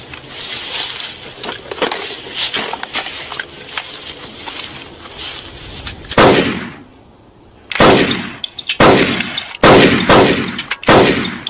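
Gunfire in a zombie crocodile horror movie: loud, dense bursts of shots fill the first six seconds, then after a brief lull come several separate sharp volleys, each standing alone and close.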